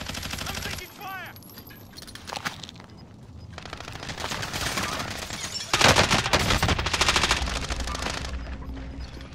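Automatic gunfire rattles in bursts during a military video game, growing louder and denser toward the end, with a voice talking between the volleys.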